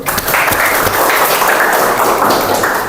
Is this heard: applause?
yes